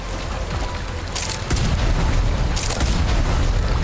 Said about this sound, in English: Oh, there's explosions.